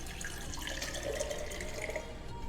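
Water poured steadily from a container into a hydrogen water generation system, a continuous close splashing and trickling flow with no talking.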